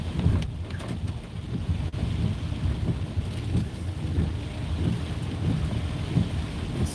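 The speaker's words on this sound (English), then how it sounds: "That rain is just pouring down." Heavy rain pours down in a continuous dense roar of rainfall, with low rumbling underneath that carries on unbroken throughout.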